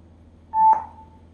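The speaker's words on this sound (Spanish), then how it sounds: "Le damos alimentación al amplificador y después de escuchar el último tono tendremos un minuto para emparejar nuestro móvil o cualquier otro dispositivo a él." A Bluetooth amplifier powers on with a short electronic tone, a single clear beep that sustains briefly and then fades, heard alone without talk.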